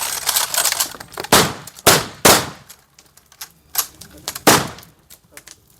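Rifle volleys of a military gun salute at a young soldier's funeral in India: several loud, sharp reports spaced irregularly, with fainter shots between them and outdoor ambience.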